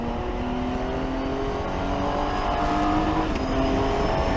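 A Sugden-style SCG003C EVO race car engine drones steadily on a damp track, with rising and falling harmonic whine as it accelerates and shifts, loud and close throughout with no talking.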